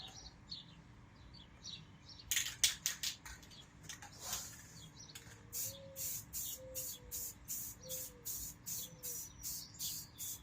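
Spray coating going onto the fuel tank of a 2000 Ford F150 as a second coat: short, sharp aerosol hisses come in uneven bursts, then a steady run of regular spurts, with faint bird chirps in the background.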